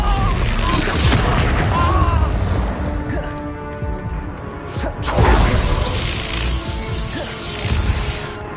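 Expulso explosion spell cast in the Hogwarts Legacy video game, a series of loud booming blasts with crashing, shattering debris, repeated bursts through the stretch and a heavy peak midway.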